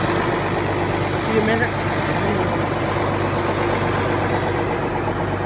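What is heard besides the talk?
MXM 190 tractor engine idling after cold start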